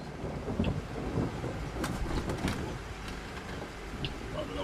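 Steady rain patters on the roof of a UK train driver's cab in Train Sim World 6, a constant close wash of drops with a few brighter taps and low rumbles, heard alone without talk.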